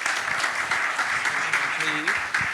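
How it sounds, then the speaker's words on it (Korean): Congregation at a Korean youth worship service applauds a departing pastor, a steady wash of clapping that fills the whole stretch, with a voice speaking briefly over it. "큰 박수 보내주시면 감사하겠습니다"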